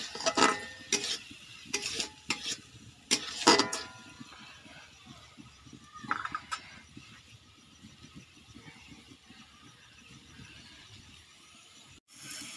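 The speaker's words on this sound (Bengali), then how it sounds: "নেড়ে নিয়ে মশলাটা ভালো করে কষাবো।" Spice masala of turmeric, chili and salt is stirred and fried for a village-style small-fish curry. Sharp, uneven spatula scrapes and clatters come first, then settle into a quieter, steady sizzle.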